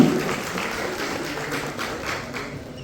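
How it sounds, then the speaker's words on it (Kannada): An audience applauding children at a school event, steady crowd clapping with a dense patter of hands that eases slightly toward the end. "ಎಲ್ಲರಿಗೆ ಮಕ್ಕಳಿಗೆ ಚಪ್ಪಾಳೆಯನ್ನು ತಟ್ಟುವ ಮೂಲಕ ಮಕ್ಕಳಿಗೆ ಅಭಿನಂದಿಸೋಣ."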